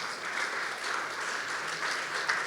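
A church congregation gives a round of applause, a steady wash of clapping from many hands, moderately distant and even in level throughout.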